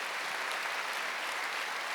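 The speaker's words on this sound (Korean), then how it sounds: "박수 한번 드렸어요." A church congregation at a Korean Wednesday worship service breaks into steady, dense applause, a continuous even clapping with no voices over it.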